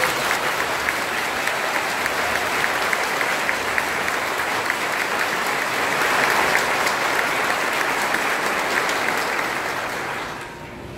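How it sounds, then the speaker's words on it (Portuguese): A church congregation applauds Father Diego at his installation Mass in the parish of Nossa Senhora Auxiliadora, a loud, full roomful of clapping that holds steady for about ten seconds and then tapers off. "uma salva de palmas"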